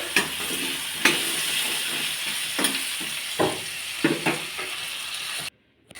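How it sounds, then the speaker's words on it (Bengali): Potato pieces frying in hot oil with salt and turmeric, a steady close sizzle broken by several sharp scraping stirs of a spatula against the pan, cut off abruptly near the end. "আলুটা জলদি ভাজা হওয়ার জন্য একটু নুন হলুদ দিয়ে দিলাম আলুটার মতো।"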